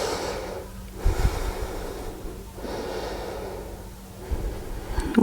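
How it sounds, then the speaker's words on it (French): Slow, deep breaths drawn in and let out through the nose while holding a yoga locust pose, with soft snorting exhales and gasping inhales spaced a few seconds apart, close and fairly quiet. "On reste ici encore pour 2 respirations."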